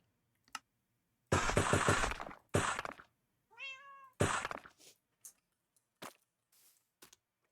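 Minecraft Java Edition cats let out a short rising-falling meow amid loud bursts of block-breaking and placing noises, sharp clicks and thuds scattered throughout.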